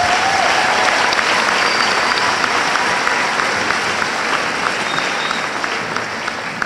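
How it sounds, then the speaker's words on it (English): A graduation audience for twelfth-grade students applauds in a steady, dense wash of clapping that carries on loudly throughout and tapers slightly at the end. "Round of applause for all of our graduates."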